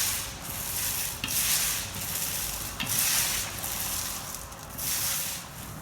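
Epoxy floor coating is worked back and forth along a tape line indoors, giving a soft, hissing rub that swells and fades in a slow, regular rhythm, quiet and close.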